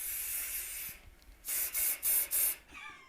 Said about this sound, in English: Please tell me that's just a new type of body spray.